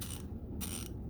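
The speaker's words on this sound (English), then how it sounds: "Now I want you to listen to the tooth count on the Icon." An Icon ratchet wrench being turned, giving a fast, fine clicking of the pawl over the gear teeth in two quick close-up bursts.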